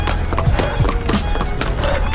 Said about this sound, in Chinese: 就连脚步声也变成了马蹄声。